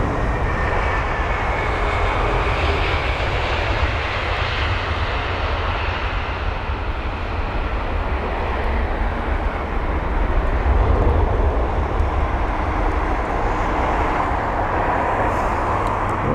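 An airliner landing at London Heathrow with its nose flared gives a loud, continuous jet engine roar throughout, steady and close, with no voices.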